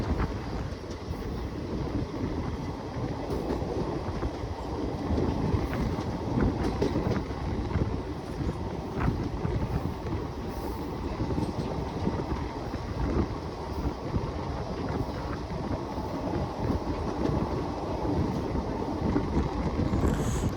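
The Narsapur–Nagarsol Express, train 12787, runs on the Vijayawada–Secunderabad route with a continuous rumble of wheels and carriages, mixed with steady wind buffeting the microphone throughout.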